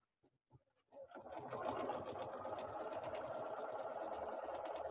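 Sewing machine stitching near hook and loop tape: after a few soft clicks, the motor starts and runs at a steady, fast, continuous whir with a rapid needle rhythm, close and fairly quiet, with no talk.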